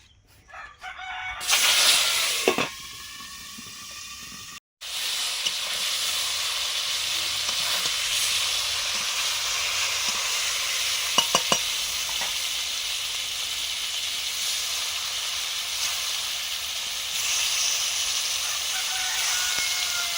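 Boal fish heads fry in a pan with a steady, bright sizzling hiss that runs throughout, while a rooster crows nearby near the start and a few small clicks sound along the way.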